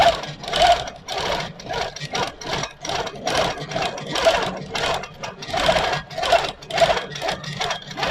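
A longarm quilting machine with Pro Stitcher runs nearby, its needle pulsing in a fast, even mechanical rhythm with short pauses between bursts of stitching.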